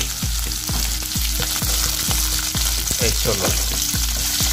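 Chickpeas cooking in a pan on a stove, with a steady loud sizzle and a regular series of stirring scrapes roughly every half second; a brief spoken phrase is heard.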